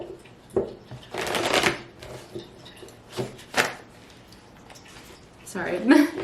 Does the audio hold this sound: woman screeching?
no